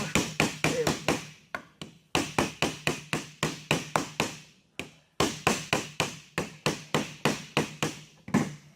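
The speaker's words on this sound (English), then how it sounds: "maybe I need to tap that lid down just a little more" Repeated tapping on a packing lid being pressed down to seat it, sharp close knocks in quick bursts of several strikes separated by brief pauses, no talking.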